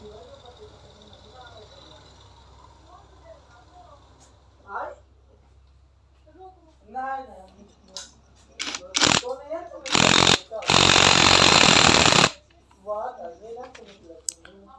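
A nut with a washer is tightened fully onto the clutch plate of a Hero Splendor Pro motorcycle engine during reassembly, giving loud, harsh mechanical bursts mid-clip, the longest lasting about two seconds, with someone talking before and after.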